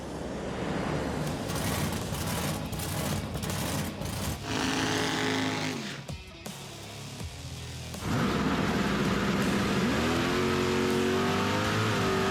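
A drag race car accelerates hard down the strip during drag week, its engine revving loudly in rising surges. A brief dip comes before a second, stronger pull that climbs steadily in pitch.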